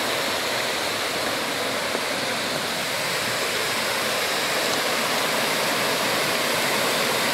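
The Antônio Monteiro waterfall at Pocinhos do Rio Verde gives a dense, steady roar of falling water, loud and unbroken throughout with no voices.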